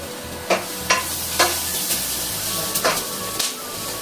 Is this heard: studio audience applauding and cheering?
no